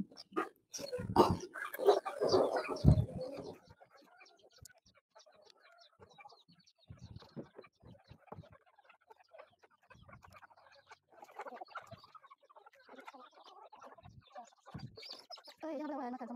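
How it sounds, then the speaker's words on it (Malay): Chickens clucking and squawking close by, busiest at the start and then scattered, with occasional rustling and faint voices in the background. "Ini ayam suami saya punya."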